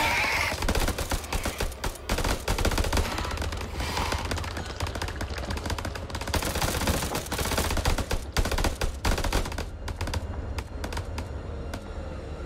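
Rapid, sustained machine-gun fire from the horror video game House of Ashes rattles almost without pause, loud and dense, then breaks into sparser bursts toward the end.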